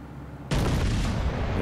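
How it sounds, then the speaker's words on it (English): A warship's gun salvo in World of Warships Legends, one sudden heavy boom after a short quiet lead-in, followed by a loud, sustained rumbling roar. "maybe one more salvo here before I die"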